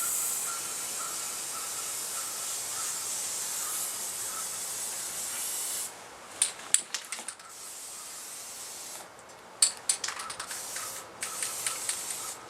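An aerosol spray can coats a DIY survival stove at close range. A long continuous hiss runs for about six seconds, then breaks into a string of short bursts with pauses between them.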